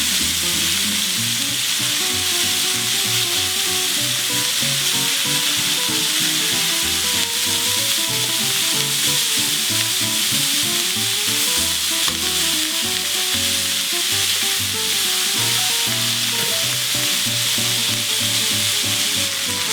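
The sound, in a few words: chopped onion sizzling as it fries in a pan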